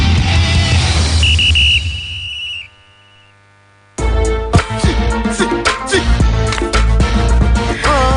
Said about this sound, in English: The sound of the whistle.